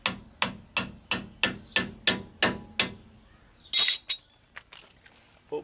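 Eight sharp metal hammer blows in a steady rhythm strike a self-locking nut on the front brake assembly of a GMC or Chevy 4x4 dually truck, followed by a brief hiss and a few clinks, close and loud.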